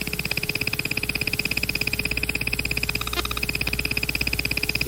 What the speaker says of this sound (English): The second sound is the Russian SAM tracking and guidance radar, and it sounds like crickets.